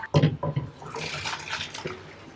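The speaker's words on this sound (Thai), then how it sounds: "นี่นะคะเทน้ำออกแล้วพักในตะแกรง" Water poured off blanched instant noodles into a strainer gives a steady splashing rush lasting about two seconds, preceded by a few quick clanks of a pot.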